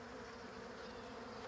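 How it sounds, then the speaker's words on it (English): Honey bees swarm over wax uncappings and honey supers after the harvest, a dense, steady buzzing hum that fills the air close up without a break, with no talk. "Letting the bees clean and glean everything they can."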